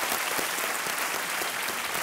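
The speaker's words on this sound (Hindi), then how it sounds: "इनका तालियों के साथ अभिनंदन किया जाए।" A studio audience on a television quiz show bursts into dense, sustained applause welcoming a contestant, loud and even across the whole stretch.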